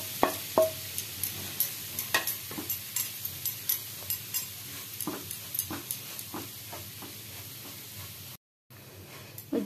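Boondi for motichur laddu fries in ghee in a pan with a soft, continuous crackle. Regular light ticks and taps, likely from stirring, recur throughout before a brief gap near the end.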